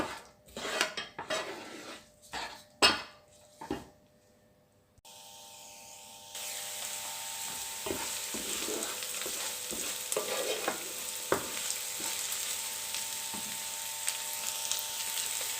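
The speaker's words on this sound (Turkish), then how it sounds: "İlk aşamada önce soğan ve biberimizi kavuruyoruz." Onions and peppers sautéing in a pan for a Turkish Aegean-style olive oil zucchini dish, with sharp metal scrapes and clinks of stirring at first, then a steady loud sizzle carrying on with occasional utensil knocks.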